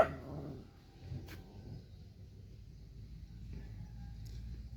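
A dog yelps or barks briefly at the very start, then only a low, steady background rumble remains.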